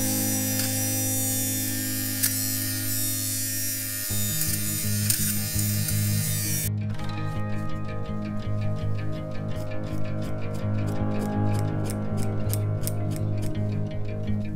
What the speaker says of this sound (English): We're gonna start with a sweater shaver